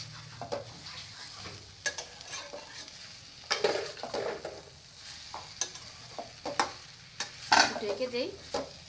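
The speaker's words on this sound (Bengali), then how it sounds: "আর একদিকে শাকটাও মজে গেছে, একটু ডাল ঘুটনি দিয়ে একটু গুতায় নিচ্ছি।" A dal masher mashes and stirs cooked greens in a pan, giving soft irregular scrapes and taps against the metal over a quiet sizzle, close and fairly faint.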